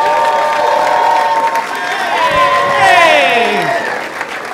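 A comedy special's audience claps and cheers loudly and steadily, with whoops and shouted voices rising over a dense wall of applause.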